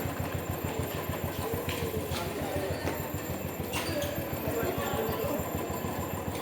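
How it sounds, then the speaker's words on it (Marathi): A Royal Enfield Thunderbird 350 motorcycle engine idles steadily with a quick, even low-pitched putter, close by and constant throughout. "आता आपण स्टार्ट करूया थोडे इंजिनला वॉर्म होऊ दे"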